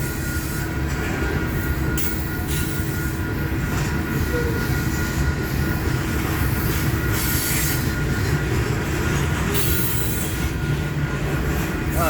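A long freight unit train led by a Missouri Pacific locomotive rolls past near Blair and Fremont, Nebraska, a continuous loud roar of railcars with wheel squeal and rhythmic clatter throughout.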